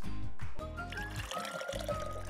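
Liquid being poured, a short gurgling stream set against bright, tonal background music, with no talking over it.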